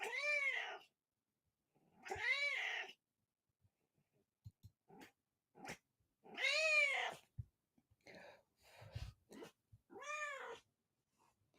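A pet cat meowing five times, drawn-out, close meows separated by pauses, with small clicks and rustles in between and no talking.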